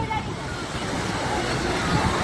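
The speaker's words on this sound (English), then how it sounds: "The waves coming." Waves surge through a water park wave pool in a steady, loud rushing wash of churning water, with voices in the background.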